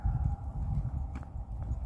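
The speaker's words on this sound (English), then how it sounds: "she's galloping a little bit" A horse galloping at a light pace outdoors, with rhythmic hoofbeats and muffled thuds, fairly close but low in level, with faint background sounds.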